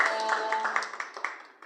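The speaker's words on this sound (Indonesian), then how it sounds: "beri tepuk tangan dulu untuk Bu Gina." A small audience at a neighbourhood community gathering claps briefly, a quick patter of close hand claps that thins out within two seconds, while a faint tone hums beneath.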